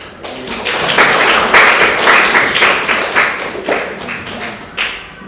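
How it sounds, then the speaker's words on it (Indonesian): A class of students applauds during an Islamic religious education lesson in an Indonesian classroom, a steady patter of close hand claps that swells and then tapers with a few last scattered claps. "tepuk tangan kemudian"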